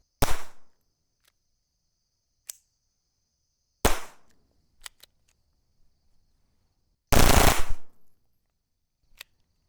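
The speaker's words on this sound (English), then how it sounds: "We've been shooting unsuppressed with the Federal Auto Match" Unsuppressed Taurus TX22 .22 Long Rifle pistol firing Federal Auto Match ammunition outdoors: three loud sharp cracks spaced seconds apart, the last a short burst, with faint pops and quiet gaps between.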